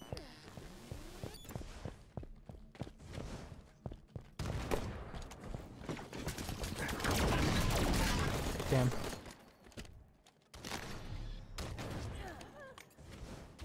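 Machine gun fire in the multiplayer video game Halo 5: bursts of rapid gunfire come and go, with a dense, sustained volley in the middle, among other game sounds and footsteps.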